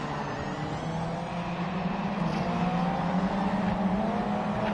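Racing video game engine of a full-carbon Nissan GT-R GT500 race car, a steady loud droning roar with sustained engine tone across the clip, no speech.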